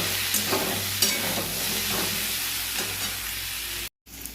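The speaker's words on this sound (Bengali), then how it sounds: "প্রথমে আমি আলুগুলো হালকা করে ভেজে নেব" Potatoes frying lightly in oil sizzle steadily with repeated stirring scrapes and light clatters, then cut out abruptly near the end before resuming briefly.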